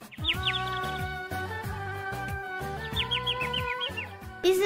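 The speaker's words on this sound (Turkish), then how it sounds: "Bir kuş sesi geliyordu odadan." A cartoon bird chirps in short rising tweets from inside a room, bright bursts of calls repeating over a steady bed of background music.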